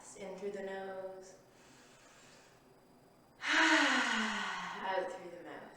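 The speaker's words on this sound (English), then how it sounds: "Just take some nice deep breaths in through the nose" A slow, deep breath drawn in through the nose and released out through the mouth during a relaxing restorative yoga session, soft at first and then a fuller, louder exhale with no talking.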